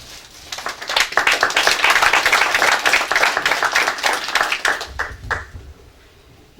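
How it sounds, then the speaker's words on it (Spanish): Loud applause from a lecture audience, steady clapping that swells and then tapers off into a few scattered claps before fading. "Recibieron con fuerte aplauso"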